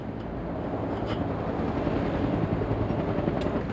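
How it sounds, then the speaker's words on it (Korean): A Cobra attack helicopter of an army aviation unit during maintenance operations: a dense, continuous rotor and turbine roar, loud and steady for the whole stretch, with no talking over it. "공격 헬기에 있어 정비 점검은 완벽한 임무 수행을 위한 기초다."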